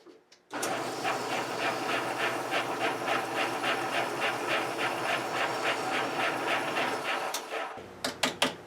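A power sander works on a wooden guitar part, sounding as a steady, close, rasping whir with a faint pulsing grind for about seven seconds, then cutting off and leaving a few light taps.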